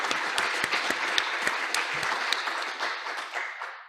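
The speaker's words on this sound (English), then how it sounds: "let's give them a round of applause for tonight" A crowd applauds warmly, dense clapping from many hands that holds steady and then gradually thins out.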